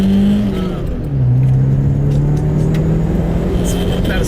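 A stock-ish Nissan 240SX is driven on back roads, its engine heard from inside the cabin as a loud, steady drone that dips briefly and then rises under acceleration.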